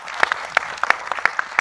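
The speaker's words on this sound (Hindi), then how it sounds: "तालियां।" Scattered applause at an Indian film trailer launch, a handful of sharp, uneven claps over under two seconds, fairly close and not dense.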